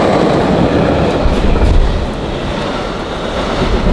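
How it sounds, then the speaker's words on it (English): Steady rumble and rhythmic clatter of a passenger train riding through Switzerland, heard from inside the carriage, continuous and fairly loud with no voices. "We're on the train."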